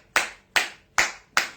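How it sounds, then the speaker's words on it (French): Four slow, evenly spaced hand claps, crisp and close, each with a short decaying tail, alone with no voices. "Il faut envoyer les cœurs et applaudir pour moi."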